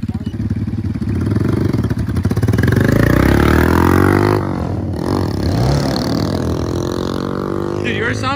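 A motorcycle engine revs hard, pitch climbing and then dropping back before rising again, loud and close with a rough, clattering tone.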